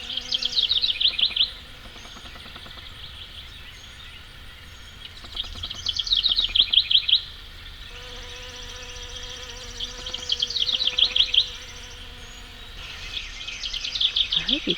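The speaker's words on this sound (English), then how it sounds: "I hope you can hear the bees, and this is almost exclusively honeybees on this beautyberry." Honeybees buzz around a flowering beautyberry bush in a garden, a steady close hum, while bird chirps break in as short repeated bursts every few seconds.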